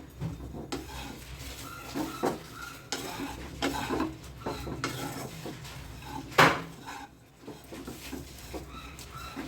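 A spatula stirs and lightly fries ingredients in a pan for a savoury oats dish. Repeated metallic scrapes and clinks sound close and fairly quiet over a soft sizzle, with no talking.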